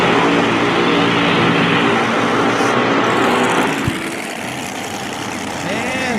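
A funny car drag racing engine roars heavily and continuously at Mo-Kan Dragway, loud and close, with a brief sharp knock before the roar eases into a lower rumble.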